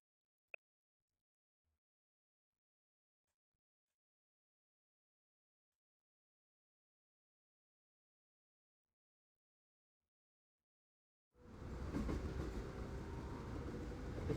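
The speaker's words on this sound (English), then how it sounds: "The train's rolling through, a peaceful sound." Train rolling along the tracks in the video game Blue Archive, a steady rumbling clatter that begins abruptly after long near-silence and continues evenly to the end.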